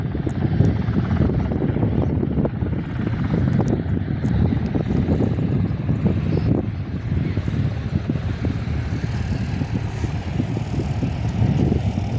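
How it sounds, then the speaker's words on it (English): Cessna C172 training plane circling the airfield on a windy day, its engine droning steadily at a distance beneath heavy wind buffeting on the microphone. "Singapore College Cessna C172 is going around for a second circuit attempt."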